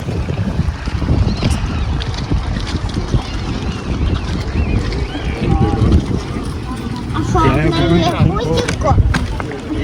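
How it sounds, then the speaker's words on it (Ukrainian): Constant wind roars and buffets the microphone throughout at a high city observation deck in Denmark, with people talking underneath and a few high voices rising near the end. "Ні, це просто так дує. Вітер так дує."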